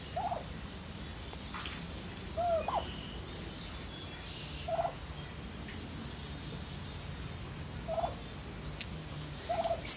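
A turkey hen in a barn shared with ducks gives short, faint calls at spaced intervals over a steady low background hum.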